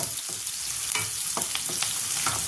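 Onion fries in a pan with a steady, close sizzle, broken by scraping stir strokes, heard alone.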